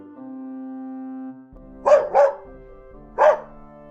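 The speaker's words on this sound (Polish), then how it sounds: "Oczywiście, to jest piesek." A dog barks three times, two quick barks close together and one after a pause, preceded by a steady low tone.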